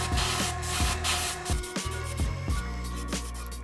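An airbrush sprays paint onto a micro bait fishing lure, a close, steady hiss broken by regular short pulses as the trigger is worked, with no talking over it.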